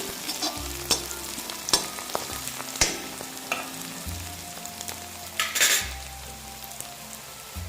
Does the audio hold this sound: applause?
no